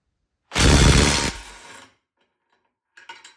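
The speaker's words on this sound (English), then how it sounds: "You can see it had no problem taking off a bolt that was 230 foot-pounds." A 1/2-inch subcompact impact wrench breaks loose a bolt torqued to 230 foot-pounds in one loud, close hammering burst of under a second, which trails off into a fading rattle before some faint clatter.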